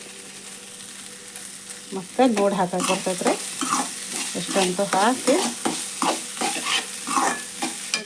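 Loud sizzling as beans fry in a tempering in a hot pan with repeated scraping stirs, while a person talks over the cooking.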